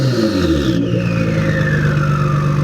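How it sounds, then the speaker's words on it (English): A Nissan GT-R with a loud aftermarket exhaust revs continuously, its pitch sliding steadily downward, harsh and throaty with a deep exhaust rumble, close by, then cuts off abruptly. "it came with the loudest exhaust I've ever heard in my life"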